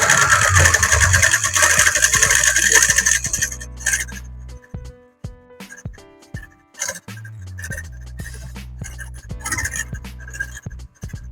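A sewing machine stitches a shirt collar during a repair, a steady mechanical whir for several seconds, then broken into short bursts of running with clicks and handling noises between them.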